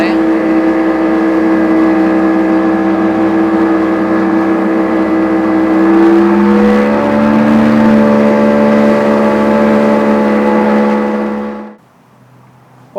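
A Yamaha 30HP two-stroke tiller outboard on a Quintrex Busta 420 dinghy runs steadily at over half throttle, a loud, close, buzzing drone with a slight pitch shift midway before cutting off sharply near the end.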